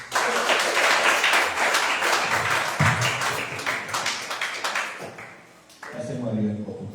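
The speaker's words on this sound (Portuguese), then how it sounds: "Palmas ao Senhor" A church congregation at a Thursday service applauds, a dense burst of clapping that thins out midway and fades, with voices speaking and calling out under and after it.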